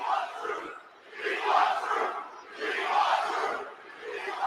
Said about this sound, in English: Oh, that crowd, bro.